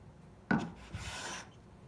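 Wax is rubbed onto a hand plane before planing a piece of wood. A sharp contact sound comes first, then a soft, close scraping rub lasts about a second before fading.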